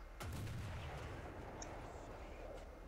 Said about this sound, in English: the explosion is, well, the shrapnel from this thing is really big